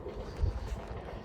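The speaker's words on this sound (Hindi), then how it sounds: "ट्रेन की आवाज़ भी आ रही है" A train crossing a railway bridge on the Narmada parikrama route comes through as a steady, distant low rumble blended with wind buffeting the microphone.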